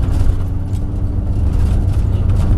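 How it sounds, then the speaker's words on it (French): A car at a driving circuit at Château de Lastours, accelerating through a fast bend with a loud, steady low engine drone and road rumble heard from inside the cabin. "Et là, tu peux accélérer, c'est un virage rapide."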